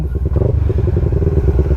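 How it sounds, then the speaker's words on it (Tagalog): A motorcycle ridden over a rough, half-paved provincial road, its engine chugging close and loud with bumpy clatter for a couple of seconds. "Parang trail talaga itong motor ko."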